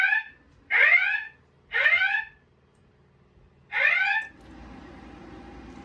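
A ceiling-mount EST alarm on a Potter PFC 4064 fire alarm system sounds during a building test, giving three loud descending whoop tones followed by a steady electronic hum.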